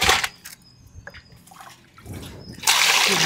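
Anchovy fish rinsed in a basin of water, close splashing and sloshing at the start, quieter trickling in the middle, then a loud rush of water near the end.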